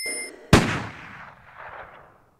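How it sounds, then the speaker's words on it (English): One sharp, loud gunshot fires in the 1996 Resident Evil video game, with a fast crack and then a long, dimming echo that rolls away into silence. "Clearly it was a gunshot, Barry."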